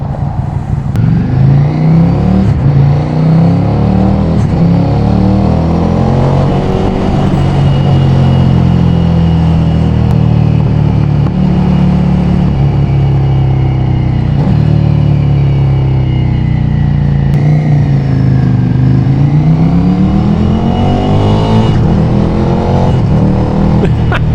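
A Ducati Scrambler motorcycle exhaust revs repeatedly, the engine note rising and falling in throaty surges, loud and close, with no talking.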